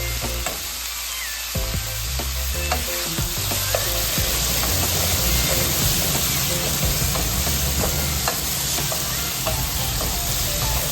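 Onion and potato curry sizzles steadily in a pan as it is stirred, with continuous frying hiss and scraping of the spoon throughout, no talk.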